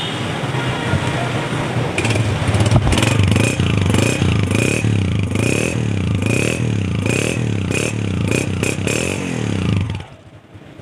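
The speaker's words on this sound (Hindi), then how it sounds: "अच्छे साउंड में मज़ा आया, अच्छी नोक में इंजन बोल रहा है। Honda 125 model 1990।" A 1990 Honda 125 motorcycle engine running steadily, loud and close with a rhythmic pulsing throb and some repeated revs, then cutting off at the end.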